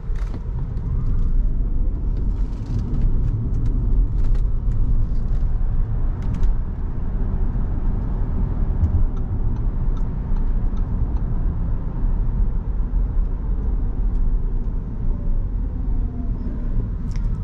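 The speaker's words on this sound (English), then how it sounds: "let's test out the handling of this car around this little corner here" Inside an Audi e-Tron S, a 507 hp three-motor electric SUV, taking corners: a steady, loud low road and tire rumble fills the cabin without pause, with faint ticks and creaks above it.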